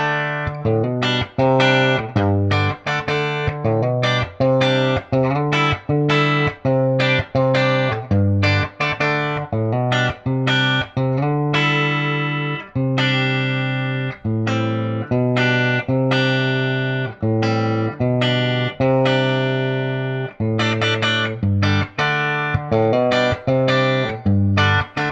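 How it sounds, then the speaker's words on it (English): Clean-toned electric guitar, a 1950s-style Esquire from a kit with Porter pickups and custom wiring, played through a mic'd amp with light reverb added; a steady run of picked notes and chords, close and loud, no talking. "Add a little bit of reverb."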